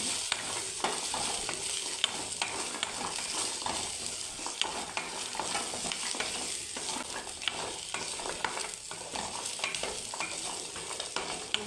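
Masala being dry-roasted with curry leaves in a pan for Chettinad chicken masala curry, a continuous close crackling sizzle with frequent scraping ticks from stirring, steady throughout with no talk.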